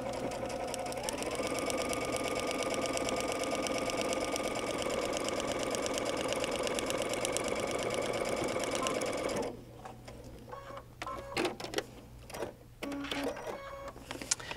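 A sewing machine stitches a paper-pieced quilt block in a steady, rapid mechanical whir for about nine seconds, then stops, leaving scattered handling clicks and rustles of fabric and paper.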